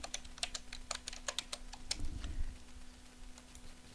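Typing on a computer keyboard while entering text into business software, a quick run of light, close key clicks in uneven bursts, then a brief soft thump and quieter scattered taps.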